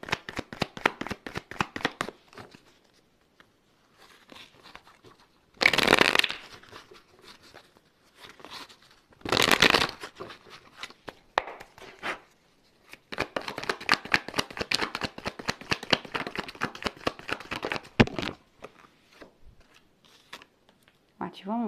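A deck of tarot cards is shuffled in rapid riffling bursts, close up, separated by short pauses and two louder flurries of cards slapping together.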